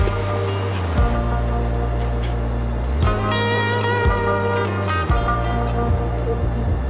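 Ocean waves wash onto a cold beach in a steady, fairly loud rush, with wind buffeting the microphone and a few sharp thumps along the way.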